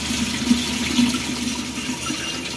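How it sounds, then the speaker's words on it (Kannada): Fresh water runs steadily from a tap during a home Varamahalakshmi pooja. It is a loud, continuous, close rush with no other sound. "ಈ ಥರ ಫ್ರೆಶ್ ಆಗಿ ಬರ್ತಾ ಇರೋ ನೀರನ್ನೇ ತಗೋಬೇಕು."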